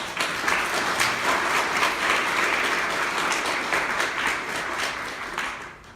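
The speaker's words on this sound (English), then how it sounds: "So can we just give everyone a round of applause?" An audience at a social work student awards ceremony claps in a sustained round of applause, dense and steady before fading out at the end.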